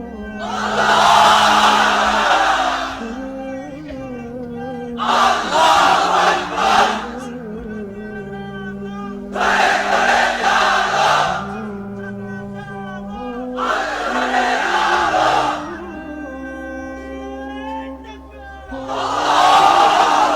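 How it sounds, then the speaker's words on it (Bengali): A large crowd of unmarried men at a religious sermon gathering roar the takbir chant in five loud, sustained unison bursts, with short quiet gaps between the shouts. "এবার অবিবাহিতরা দাও লিল্লাহি তাকবীর"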